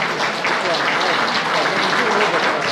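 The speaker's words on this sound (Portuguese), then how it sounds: "o deputado Jerônimo Gorga, que merece uma grande salva de palmas" An audience at the launch of a parliamentary biodiesel caucus applauds a deputy, producing a continuous, even wash of clapping from many hands that holds steady from start to finish.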